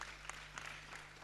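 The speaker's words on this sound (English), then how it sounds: "I think Karen deserves a round of applause from the room." Applause from the audience in a room at a capacity-building event, a brief soft patter of clapping with a few sharper claps, fairly faint and distant, over a low steady electrical hum.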